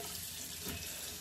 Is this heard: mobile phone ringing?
no